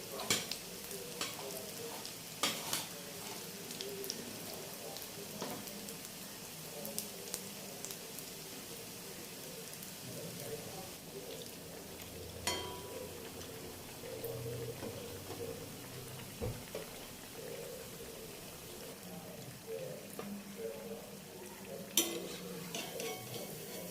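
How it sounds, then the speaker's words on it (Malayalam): A crispy snack seasoned with chili, salt and sour yogurt frying in boiling coconut oil, a steady soft sizzle and bubbling throughout, with occasional utensil clinks and stirring, moderately close and without speech. "തിളച്ച വെളിച്ചെണ്ണയിൽ നിന്നും അത് വെന്തിട്ട് വരട്ടെ"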